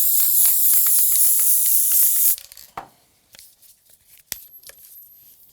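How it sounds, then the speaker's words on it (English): Aerosol spray glue hisses steadily and loudly for about two seconds, laying a coat of layering adhesive over a model baseboard for static grass, then stops, followed by faint handling clicks and a sharp tap. "And again, layering spray."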